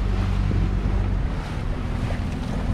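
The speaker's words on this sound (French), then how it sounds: "On va baisser un peu le régime moteur." A sailboat's engine idling at lowered revs while crossing the Strait of Gibraltar, a steady low drone blended with wind and water noise on deck, continuous throughout with no talk.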